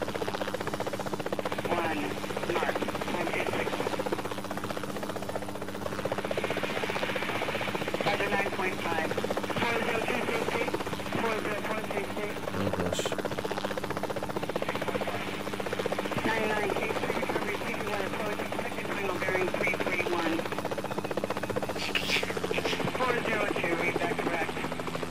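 Continuous rotor and engine drone of a helicopter in the game Helicopter Simulator 2014, a steady close hum that never lets up, with someone talking over it at times.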